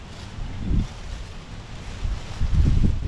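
Wind gusting outdoors at a seaside catch-and-cook spot, a rough low rumble buffeting the microphone, swelling twice in short surges with no talk.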